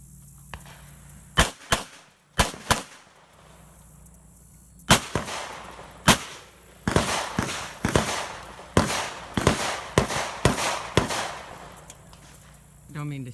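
Revolver shots ring out at an IDPA shooting match, loud sharp reports coming in irregular clusters, two rounds to each of several targets, with brief pauses between strings and faint background noise.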